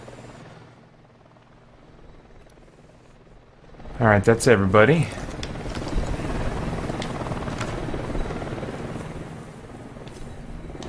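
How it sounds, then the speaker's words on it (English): A helicopter approaching in a tactical shooter video game, a steady rotor drone that swells louder and fills the background after a short burst of radio-style voice chatter, with people talking. "Man, I hear that chopper coming."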